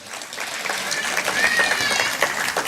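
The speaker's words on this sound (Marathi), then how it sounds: "आयाने पहिल्यांदा टाळ्या वाजवायला काय हरकत नाही" A crowd of mothers in a hall claps throughout, a dense, steady patter of many hands at fairly close range, with murmuring voices mixed in.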